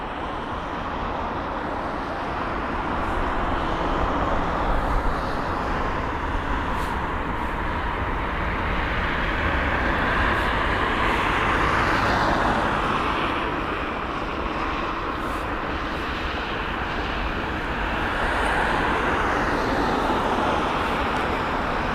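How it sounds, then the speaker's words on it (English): A Singapore Airlines Airbus A380 at London Heathrow gives a broad, steady roar that swells and fades slightly over about twenty seconds, heard from a distance and mixed with wind on the microphone. "now here's the A380 of Singapore Airlines"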